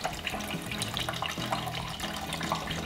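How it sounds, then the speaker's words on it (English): Water pours steadily from a bottle into a toy tank, a continuous close splashing and trickling flow with no talk over it. "Okay, so this is our first bottle of water. Let's see if it fills the tank."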